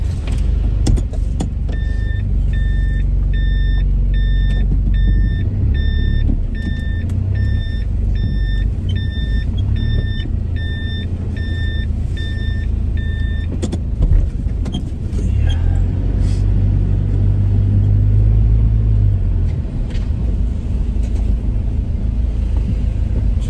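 A car travels down a New Zealand road, its steady engine and tyre rumble continuing throughout, with a repeated electronic beeping tone sounding for the first several seconds and no talking.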